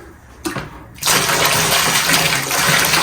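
Water gushes steadily into a plastering mixing bucket for plaster mix, a loud, continuous splashing pour that starts abruptly after a brief knock and keeps going close by.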